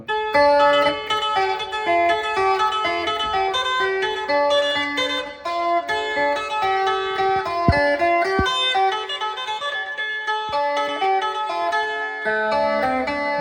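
A phin lute plays a quick run of bright, high plucked notes, climbing and falling in a continuous flowing melody with no talking.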